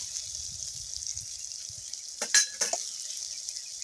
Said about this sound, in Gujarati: હવે આ સરસ મજાનો વઘાર થઈ ગયો છે. હવે આમાં નાખી દઈશું હળદર,